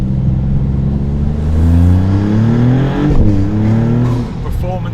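A Maserati V6 engine revs loudly and steadily, rising and falling in pitch through a few swells, with what sounds like people talking faintly underneath.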